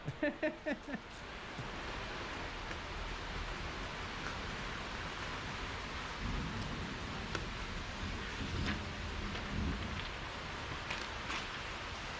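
Steady rain pours outside a garage in Florida, a dense wash of hiss and patter with scattered sharper drips, heard alone apart from a few brief knocks at the start; no thunder stands out.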